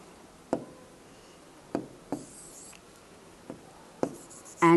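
Pen strokes on paper as an answer is written out by hand, several short scratchy bursts separated by pauses, quiet and close in a still room.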